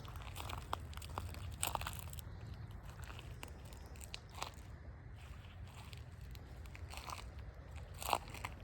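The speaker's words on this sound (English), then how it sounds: "Just gonna be crunching on all this mulch." Footsteps crunch over dry mulch on a woodland floor, with soft irregular crackling steps and a few sharper snaps, faint and close, no talking.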